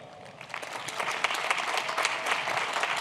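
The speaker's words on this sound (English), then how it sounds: "give yourselves a big round of applause" Graduating students of the University of Virginia class of 2021 applaud at their final exercises, a broad crowd of clapping that swells from moderate to full and stays steady, heard from a distance.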